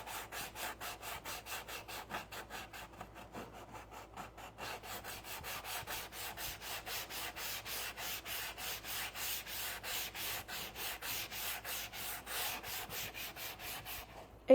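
Wood is sanded by hand with coarse, harsh-grit sandpaper while making a snow globe shelf sitter: close, rhythmic back-and-forth rasping strokes, slow at first, then steady and quicker, about two per second, with no talk.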